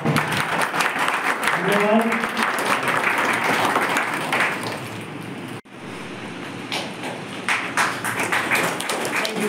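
An audience at a stage performance claps together in dense, sustained applause, which breaks off abruptly and resumes at a lower level with a voice speaking over it.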